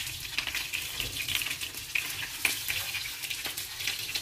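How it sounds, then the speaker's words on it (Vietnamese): Battered shrimp with egg fry in a pan, a continuous crackling sizzle with sharp pops scattered through, fairly close and without talk. "Mình tiếp tục chiên cho đến hết tôm nha."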